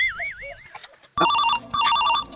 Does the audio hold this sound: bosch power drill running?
no